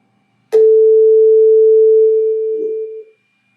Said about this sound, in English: another tone, again with very simple components. Another sine wave, multiplication as before